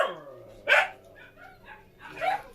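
Dogs seized by health officials from a family bark in a few sharp, loud, ringing yelps spaced about a second apart, with a short whine fading at the start and no talking.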